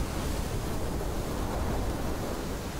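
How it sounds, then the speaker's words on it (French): Steady rushing wind in Sons of the Forest, a broad, even roar with no pauses that fills the whole moment, loud and close with no other sounds. "Alors le vent c'est bien, mais c'est vrai que ça fait beaucoup de bruit."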